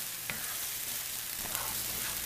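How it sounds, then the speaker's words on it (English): Sambal for nasi lemak sautés in a pan, giving a steady close crackling sizzle with occasional small pops and stirring scrapes, no voices. "I'm going to saute these for about 10 minutes, get it to a nice reddish brown"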